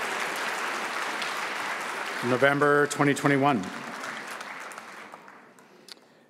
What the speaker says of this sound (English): Let's have a round of applause, please, for the HCA graduates.